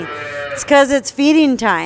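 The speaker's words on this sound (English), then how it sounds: "I'm sure you can hear all of them mooing and bellering, we call it, behind me." Calves in a dairy calf barn bawl and moo at feeding time, several loud, drawn-out cries close by, overlapping someone speaking over them.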